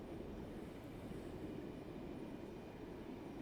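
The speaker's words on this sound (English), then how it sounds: "wait for the train to pass by again" Train Sim World 3 train rolling past with a steady, continuous low rumble and rail noise, loud and close throughout with no talking.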